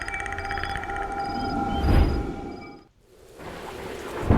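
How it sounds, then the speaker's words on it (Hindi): Summer Kal Baisakhi storm with dense clouds: heavy rain hisses steadily as thunder rolls and swells, then the sound briefly drops away before the downpour returns, with sustained tones running beneath. "चारों ओर घने बादल छाए हुए हैं। तूफान उठ खड़ा हुआ है।"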